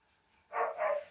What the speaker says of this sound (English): There's my doggos.